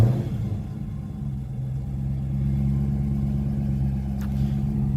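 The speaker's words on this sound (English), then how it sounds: "So all you have to do is hit it 3 times. Your car will start." A Dodge Challenger's engine starting by key fob remote start, followed by a low, steady idle rumble with a deep drone, heard without speech.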